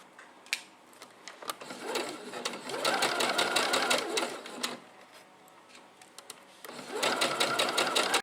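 A sewing machine stitches a hem on a summer dress in two bursts of quick rhythmic clattering, fairly close, with a quieter pause between them.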